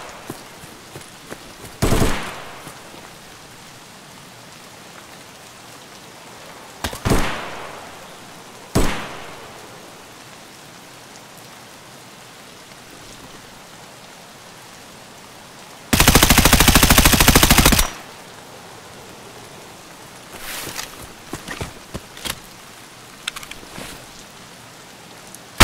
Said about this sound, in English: They're trying to snipe from the top of the hill.